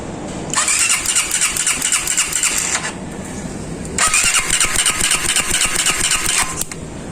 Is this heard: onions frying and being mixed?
no